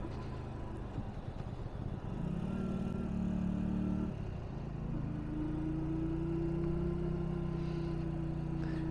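A Hyosung Aquilla GV125 V-twin motorcycle engine on the road in third gear, a steady, moderately loud mid-pitched drone whose tone dips and then rises as the revs change.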